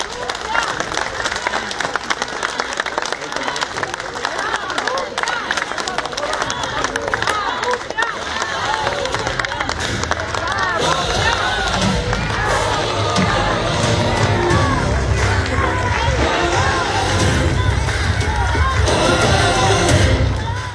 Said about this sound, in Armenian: Բարձր ծափերով դիմավորում են Գագիկ Ծառուկյանին։